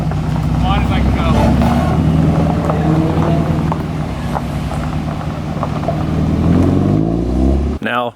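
Honda Civic Si, Honda S2000 and Mazda Miata sports cars accelerating away on the Tail of the Dragon road, engines revving loudly and rising in pitch up close, with wind buffeting the microphone before cutting off.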